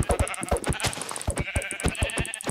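Sheep in the Minecraft video game bleating repeatedly, a quick series of short nasal baas, close and clear, layered over a steady electronic game tone with no talking.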